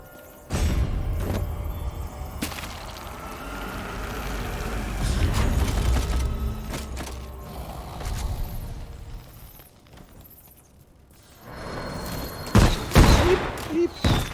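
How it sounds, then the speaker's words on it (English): Explosive-tipped crossbow bolts fired in Vampire: The Masquerade - Bloodhunt, with sharp mechanical cracks and booming impacts scattered across the clip amid rumbling game noise, with some talk in between. "He's got the crossbow with the explosive tip bolts"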